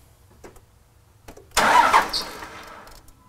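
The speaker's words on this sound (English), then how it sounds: "Okay, David, turn the key on and bump it" A 2002 Dodge Cummins diesel engine is bumped with the key: a quiet lead-in with faint clicks, then a sudden loud burst of starter cranking and engine rumble that fades over a second or so, heard alone.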